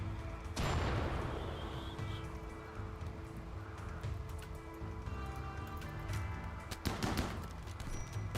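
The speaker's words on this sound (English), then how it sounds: "that's an incendiary grenade" An incendiary grenade goes off in RimWorld, a sharp burst near the start followed by crackling, sputtering fire and scattered pops, with another loud crack late on, no voices over it.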